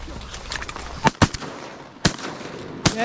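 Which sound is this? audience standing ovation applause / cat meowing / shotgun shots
shotgun shots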